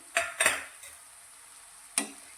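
A few sharp clattering bursts as finely chopped tomatoes drop into a hot pan, followed by a low, steady sizzle and one more scrape near the end.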